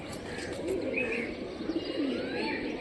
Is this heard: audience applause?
no